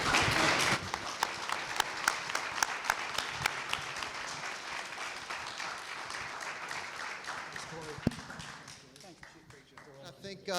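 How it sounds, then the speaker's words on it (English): Audience applauding four panelists at the close of a public safety panel discussion in Alexandria, a steady dense round of clapping filling the room that tapers off toward the end. "let's give our 4 panelists a round of applause"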